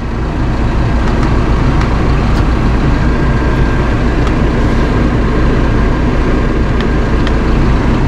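A Massey Ferguson 5S.145 Deluxe mid-range tractor with Dyna6 transmission idling, its loud, steady diesel rumble heard close up from the cab with faint clicks on top and no talk.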